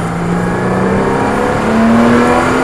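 Car accelerating on a cone driving course, the engine note climbing steadily and loud, close by with a rising pitch after a gear change.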